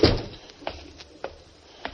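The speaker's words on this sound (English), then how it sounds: "close the door after you now as you go out there" A door closes in an old-time radio comedy scene, a soft thud followed by several quieter knocks and bumps spaced across two seconds, with no voices.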